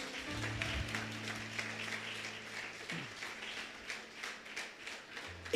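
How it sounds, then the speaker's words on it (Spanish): A church congregation applauds in steady, moderate clapping that continues for several seconds, heard a little distant with a low hum underneath. "Vamos, denle un fuerte aplauso."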